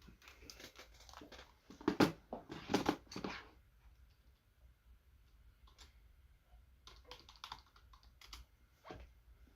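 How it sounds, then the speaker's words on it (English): Typing on a computer keyboard, close up, in bursts of rapid clicking keystrokes separated by quieter pauses, with no voices present. "Let me use this keyboard."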